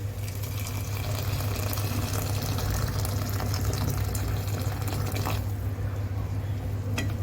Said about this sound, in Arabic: هننزل عليها بالميه المغليه